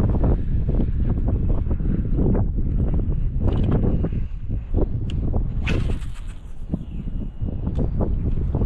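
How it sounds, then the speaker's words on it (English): Strong wind roars steadily into the microphone aboard a fishing boat on open water while fishing for speckled trout, a constant loud buffeting with small knocks and splashes on top. "Wind is blowing, but not as hard as it has been."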